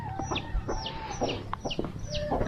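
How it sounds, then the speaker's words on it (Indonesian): Chickens and large roosters in a village give repeated clucks and short calls, close and overlapping, over a soft outdoor background. "Tuh banyak ayam, ada ayam jago tuh gede-gede."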